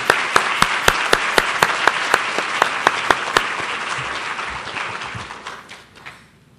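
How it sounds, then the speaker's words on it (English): A round of audience applause at a keynote conference event, opening with a few sharp, distinct claps that merge into a steady crowd wash before thinning out and fading toward silence. "Let's give him one more round of applause for that."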